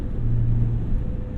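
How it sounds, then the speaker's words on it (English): 1999 BMW M Roadster with an S52 engine and Dinan exhaust droning at low revs, a deep steady boom heard from inside the cabin, constant and close. "I'm surprised the drone in this is just as bad as my Rogue Engineering muffler"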